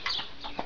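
A few short clucks from chickens, close by, with brief soft calls spaced across a fraction of a second.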